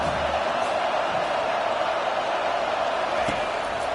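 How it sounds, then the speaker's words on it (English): A college football stadium crowd roars on third down as the defense takes the field, a dense sustained wash of distant voices with a few faint thumps and shouts rising out of it. "Decibels rising as the crowd gets behind this defense on 3rd down"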